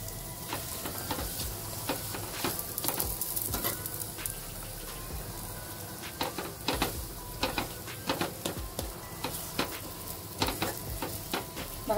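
Aloo paratha fries in oil on a pan with a steady close sizzle, crackling and popping in scattered sharp bursts throughout.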